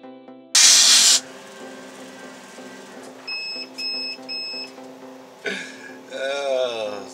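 A laser cutter running at 330 millimeters a second and 42% power fires on a slice of ham, starting with a loud, brief hissing burst, then giving short repeated beeps and faint whirring movement over a steady hum, with no talk.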